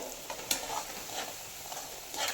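A roasted chivda mixture seasoned with cumin and chivda masala is stirred in a pan with the gas flame off, giving soft scraping and rustling with light sizzle and a few sharper clinks, heard alone.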